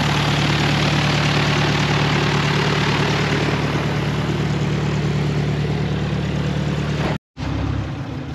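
A steady, droning propeller aircraft engine idles at an air race, with a constant low hum and propeller whir, broken by a brief dropout near the end.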